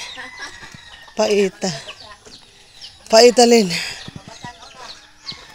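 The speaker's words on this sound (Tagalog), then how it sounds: "Oh, ang manok na pula. Manok na pula." A red chicken clucks in bursts close by, with a short rooster-like call, while people talk intermittently around it.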